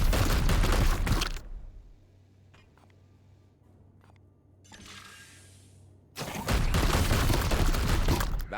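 Gunfire in Warhammer 40,000: Chaos Gate - Daemonhunters: a loud burst of shots opens, gives way to quiet with a few faint clicks and a swelling whoosh, then another loud volley of fire closes.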